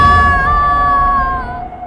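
A girl named Preeti lets out a long, high, sustained scream in an animated horror cartoon, loud and close, wavering slightly before trailing off after about a second and a half.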